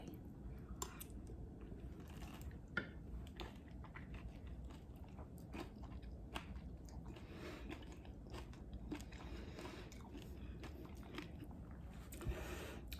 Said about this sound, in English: If you don't like to see someone eat, look away.